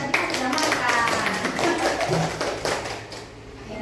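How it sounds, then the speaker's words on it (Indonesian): Classroom applause from a group of primary school students, a rapid, steady patter of many hands clapping close by for several seconds, fading toward the end, with a voice speaking over it. "Ya, tepuk tangan untuk kita semua."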